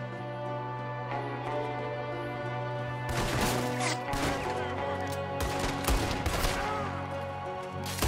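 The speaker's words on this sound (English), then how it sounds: "There's another one shooting from the window." An enemy shooting from a window in Red Dead Redemption 2: a quick volley of sharp gunshots and cracks breaks in over a droning game music bed, several shots clustered over a few seconds.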